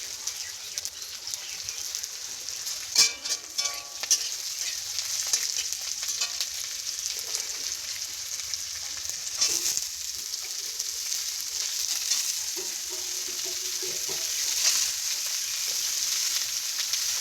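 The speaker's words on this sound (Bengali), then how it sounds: "মাছ ভাজার পরেই চচ্চড়িটা দিলাম, কারণ মাছ ভাজার তেলটা এখানে চলে আসবে" Chorchori vegetables fry in leftover fish-frying oil, giving a steady close sizzle with occasional stirring clatter, alone without talk.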